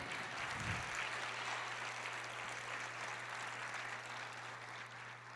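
Church congregation in a Portuguese-language service applauding, a faint, distant, even wash of many hands clapping over a low electrical hum for over five seconds.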